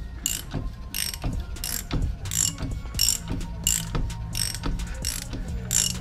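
Ratchet wrench tightening the nut on the front left shock absorber of a Renault Clio, a steady run of quick metallic clicks in repeated bursts, close and loud with no talk.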